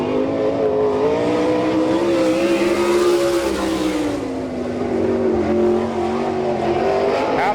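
A sprint car racing a lap at Abbottstown, Pennsylvania, during an All Star Circuit of Champions event, its engine roaring loud and continuous with rising and falling pitch as it circles the track.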